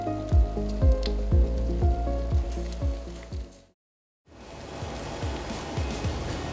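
Fish grilling under a Comet Kato electric salamander gives a steady hissing sizzle with regular low thumps of background music, broken by a brief silent gap before the sizzle resumes.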